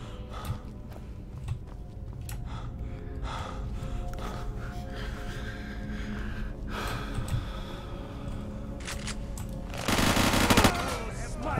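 Gunfire in the Skyrim video game, scattered sharp shots and bursts through a busy game soundscape, with a louder dense burst of firing near the end.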